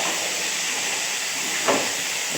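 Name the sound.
bitter gourd and pumpkin curry frying in pan with spices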